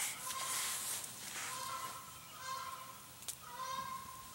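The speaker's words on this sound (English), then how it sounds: "Angry bird." An angry bird in a VR game lets out repeated honking squawks, several tonal goose-like calls spaced a second or so apart, fairly close over a steady background hiss.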